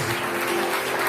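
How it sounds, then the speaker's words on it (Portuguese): Audience applause, a dense steady burst of many hands clapping together, loud and close, lasting about a second with no talk over it. "Aplauda essa verdade."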